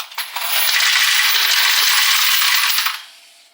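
Brass cartridge cases poured into the hopper of a progressive reloading press case feeder, a loud, dense metallic clatter and jingle lasting about two and a half seconds before trailing off.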